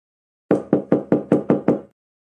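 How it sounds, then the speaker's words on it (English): Seven heavy, evenly spaced knocks pound on a door, loud and close with no talking, then stop abruptly. "I heard someone pounding on the door"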